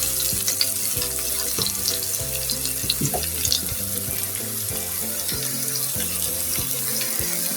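Bitter gourd (korola) frying slowly in a pan, a loud continuous crackling sizzle steady throughout, with faint background music underneath.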